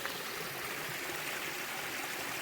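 Stream water flows steadily, a dense, even broadband rush of running water near the listener with no pauses or voices over it.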